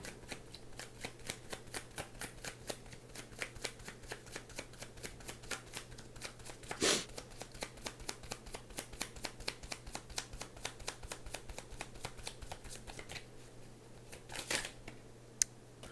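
Tarot cards are shuffled steadily by hand, a rapid run of crisp riffling flicks close up, with a few louder slaps and no voice.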